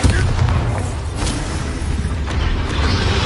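A Bombarda blasting spell explodes in a spell-casting duel with a loud, heavy boom that opens sharply and then rolls on as a low, rumbling roar.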